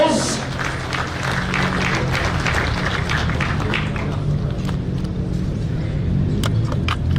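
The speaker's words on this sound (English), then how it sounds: "Can you give yourselves a big, warm round of applause?" A crowd at the WRC Safari Rally launch applauds with steady, dense clapping and a low rumble of noise, a voice carrying over it.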